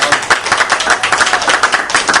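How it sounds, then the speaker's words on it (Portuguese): A small group applauds at a close-up gathering, with dense, rapid hand claps in a steady patter that runs continuously at fairly loud level, with no voices over it. "Um aplauso."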